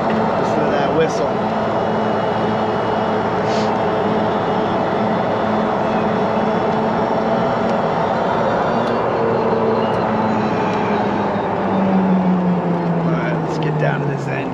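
Electric motor whine from a golf cart fitted with a 48V Plum Quick Executioner motor and Navitas 600A controller, a steady tonal whistle rising in pitch over a continuous drive hum, loud and close throughout.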